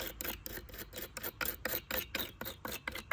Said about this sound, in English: using the little brush right here to also clean the screws